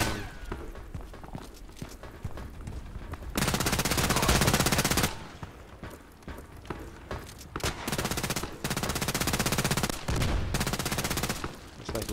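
Assault rifle fire in the online shooter Contract Wars rattles out in several loud, sustained automatic bursts, separated by quieter stretches with footsteps and soft thuds.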